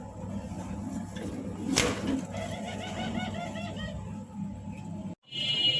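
Pigeons coo softly in a pen holding king and racer pigeon pairs, a low rolling murmur running steadily under general background noise with a brief sharp clatter near the middle.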